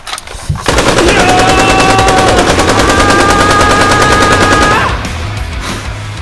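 Loud, rapid automatic gunfire from a skibidi toilet shooting video game, one sustained burst of about four seconds over game noise and music, with no voices.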